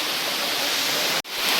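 The waterfall at Jatashankar Mahadev near Junagadh gives off a dense, steady hiss of falling water, close and loud, with a brief dropout partway through before the roar resumes; no voices are heard.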